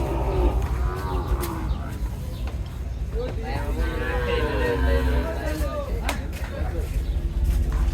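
Cattle low repeatedly at Gabtoli cattle market, a busy livestock haat near Eid al-Adha sales, with several long moos rising over a steady crowd murmur and market bustle, fairly close and loud throughout.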